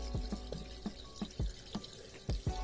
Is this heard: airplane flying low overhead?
no